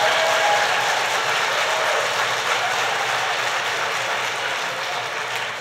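Sustained applause from an audience at a governor's public announcement event, a broad wash of clapping that starts strong and slowly tapers over several seconds.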